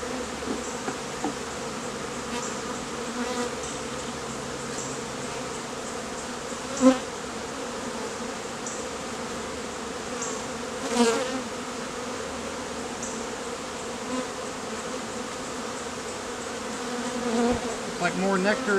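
A honey bee swarm drones steadily at close range throughout a hive rescue while frames are worked, with a few soft knocks and faint speech under the constant buzz.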